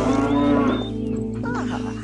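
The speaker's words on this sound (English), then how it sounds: "milking the cow and all" A cow on a farm gives a long, loud, low moo that bends downward and trails off, heard close up and alone against a steady background.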